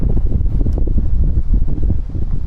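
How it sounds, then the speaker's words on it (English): Strong gale-force wind blowing at an outdoor coastal spot, a loud continuous rumble buffeting the microphone in uneven gusts, with no talking. "it's back to blowing a gale again"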